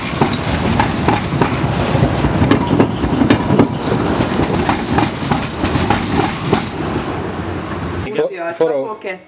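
A tram rumbles past at night on Budapest's Liberty Bridge, with rhythmic clacking of wheels over rail joints, loud and close, then cuts off as a voice speaks briefly.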